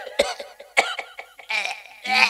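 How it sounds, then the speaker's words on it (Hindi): A performer playing an aged king in a Ramlila stage play acts out a string of rough, hacking coughs, several loud close bursts with short gaps between them. "और राजा बूढ़े हैं तो खांसते हुए जाएंगे"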